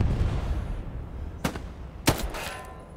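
Two sharp gunshots crack in a World War II shooter game set in the Hurtgen forest, the first fainter at about the midpoint and the second louder, over a low rumbling battlefield background.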